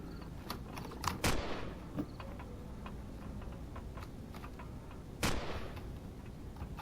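Gunfire in the sci-fi shooter Empyrion, heard inside a weapons factory: two sharp, fairly distant reports a few seconds apart over a steady low background, with faint ticking in between and no talking.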